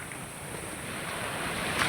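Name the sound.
ocean waves on beach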